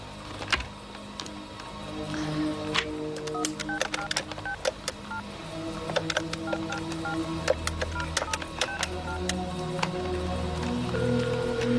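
Telephone keypad tones are punched out one after another in a quick, irregular series of short beeps while someone dials a number, steady background hum underneath.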